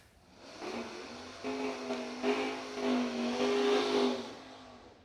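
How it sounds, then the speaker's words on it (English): A 1983 Chevrolet Camaro drag race car revs at a drag strip, its engine tone rising and holding for several seconds, heard at moderate distance without talk. "Mead, the 1983 Camaro, dialed 587. Cerruti is dialed 635."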